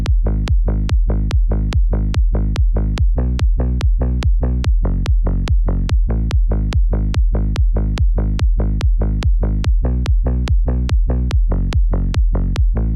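Layered warm synth bass patches pulse in a steady, fast repeating pattern of short punchy notes, loud and dry with no voices over them.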